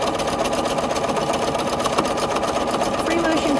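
A sewing machine does free motion quilting with a steady, close, rapid mechanical whir and chatter that runs unbroken throughout.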